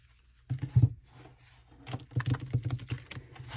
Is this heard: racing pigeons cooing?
no